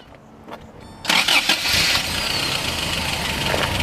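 A 1985 Toyota Extracab SR5 4x4 pickup truck's engine cranks briefly, then catches and roars to life, settling into a loud, steady idle close by.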